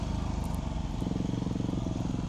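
A motorcycle engine drones steadily as the bike rides along a dirt trail, its low throbbing note holding even throughout, with faint wind noise and no clear talk.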